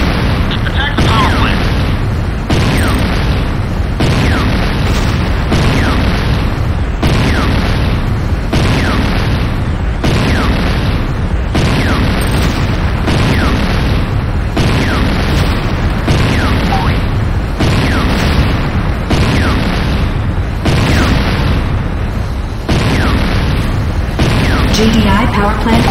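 Structures exploding under attack in C&C Renegade, a dense, loud, continuous barrage of booms and blasts with steady rhythmic bursts over the whole stretch, with game announcer voice lines mixed in.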